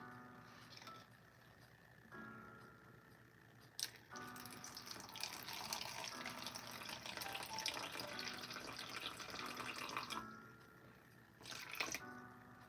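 Tap water runs steadily into a bowl while baking, pouring for several seconds with brief stops and splashy bursts, close and fairly quiet.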